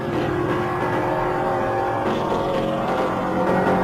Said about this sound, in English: Into the pits comes Reg Parnell's Lagonda while the field roars on.